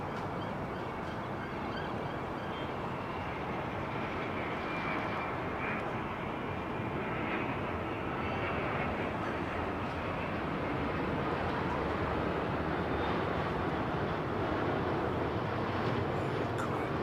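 A Boeing 787-10 with Trent 1000 engines comes in to land at London Heathrow, giving a continuous, fairly loud jet roar and whine that holds steady for the whole stretch with no talk.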